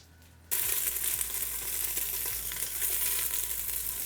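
Vegetables for a homemade stock sizzle and fry steadily in a pan over high heat, a dense continuous hiss that starts abruptly after a brief quiet moment and holds at an even, close level with occasional stirring scrapes.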